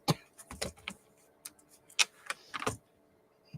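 Irregular bursts of clicky keystrokes from a computer keyboard, close and fairly quiet, arriving in short clusters separated by brief pauses against a near-silent background.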